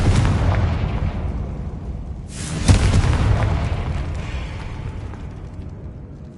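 A Confringo blast spell explodes in Hogwarts Legacy as a deep rumbling boom with a sharp burst near the middle, then a long fading roar. No one speaks.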